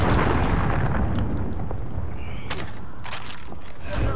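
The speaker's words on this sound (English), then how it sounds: "Allied cruise missile away." A cruise missile explodes in the Modern Warfare video game, a loud, sustained rumbling blast that fills the clip with booming noise and a few sharper pops toward the end.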